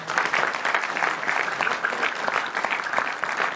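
A seminar audience at a medical seminar gives loud, steady applause, dense hand claps with a slightly pulsing rhythm that continues throughout.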